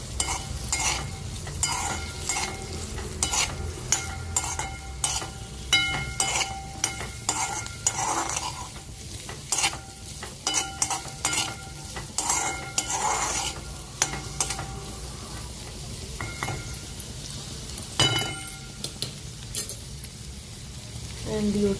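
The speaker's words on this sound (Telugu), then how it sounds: "కొంచెం కాలీఫ్లవర్ అనేది కొంచెం బ్రౌన్ కలర్ వచ్చే వరకు ఫ్రై చేయండి" Cauliflower and potatoes sizzle in a pan for aloo gobi while a spoon stirs and scrapes them repeatedly, a steady close frying hiss broken by frequent metallic clinks.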